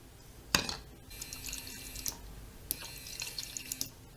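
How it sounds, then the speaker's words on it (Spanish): Water splashes and trickles as a mini DC electric motor pump with a propeller expels it, in two short bursts of spraying, dripping liquid with gurgling and glassy pattering, recorded close and fairly quiet with no speech. "esta mini bomba de agua, que es un simple motor eléctrico de corriente directa que vienen con hélices para expulsar agua"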